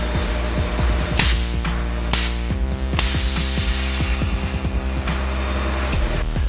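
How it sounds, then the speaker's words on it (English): A GFB DV Plus diverter valve on a turbocharged engine vents under boost of up to 30 psi, giving several sharp, loud bursts of hiss over a constant mechanical drone, with no voices. "the valve opens and closes pretty much instantly, even at 30 psi of boost"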